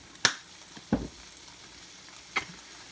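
Soy sauce and garlic hit a hot pan with a few sharp sizzling splashes over a faint steady frying hiss, with quiet gaps between.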